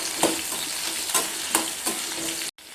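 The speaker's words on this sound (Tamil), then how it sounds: "கட் பண்ணி வச்சுருக்கிறேன் மாங்காய் துண்டுகளை சேர்த்து கொஞ்சமாக வதக்கி விட்டுக்கலாம்." Mango pieces fry in hot oil with mustard seeds and curry leaves over a low-medium flame for a Tamil New Year feast dish. A steady close sizzle carries repeated scraping stirs about every half second, then cuts out briefly near the end.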